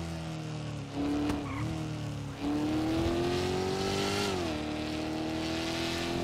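Car engine in the GTA 5 video game revving and pulling with a steady rising and falling tone, moderately loud, with faint tire squeal and no talking.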